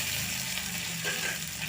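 Mustard seeds, chillies, garlic and curry leaves sizzle in hot oil for a sambar tempering, a steady close frying hiss with faint crackles.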